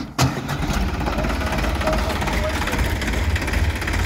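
A tractor engine, a Sonalika DI 35 or New Holland 3032, cranks and catches with a sharp onset, then settles into a loud, steady close-up diesel rumble for several seconds, with people talking over it.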